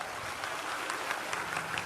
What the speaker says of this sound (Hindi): पहले नंबर तो इन्हें ताली बजा के धन्यवाद दे